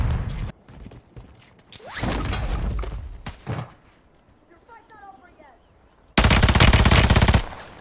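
Bursts of automatic gunfire in a video game, with a long, loud final burst of rapid shots near the end after shorter volleys and talk earlier.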